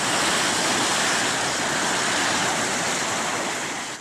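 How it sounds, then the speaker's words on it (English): Tsunami waves sweeping through neighborhoods in Japan, a loud, dense, continuous rushing roar of water that holds steady for several seconds and fades slightly at the end. "In Kensanuma, tsunami waves sweep through neighborhoods, dragging homes and property."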